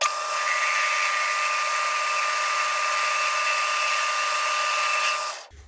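A metal lathe turns down a small steel part for an automatic center punch, a steady high whining hum with a clear tonal note, running continuously and loudly before cutting off abruptly at the end.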